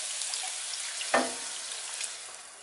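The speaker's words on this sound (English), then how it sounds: "we're going to go ahead and add our broth. I have bone broth, bone beef broth." Beef bone broth pours into a hot pan, a sudden hissing splash over a low background sizzle that then settles into a softer liquid bubbling, with no talking.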